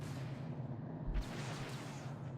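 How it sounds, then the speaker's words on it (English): Tank fire in the Star Wars: Empire at War strategy game, one deep booming shot around the midpoint over a constant low rumble and hiss of battle noise, no voices. "this tank is just going to annoy me, because he's just shooting me"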